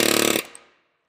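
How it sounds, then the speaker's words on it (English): An air chisel cuts out a shifter isolator bushing in a short, loud, rapid hammering burst that stops abruptly and trails off into silence. "we just got to keep chiseling her out"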